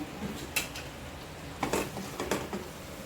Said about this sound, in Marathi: झाकण काढून चेक करूया